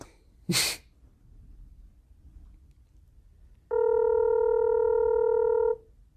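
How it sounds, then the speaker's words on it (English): A telephone ringback tone sounds once as a steady two-second electronic ring while a call is placed, preceded by a short sharp burst of breath or a sneeze, with quiet room noise between. "We'll cut out all the ringing altogether."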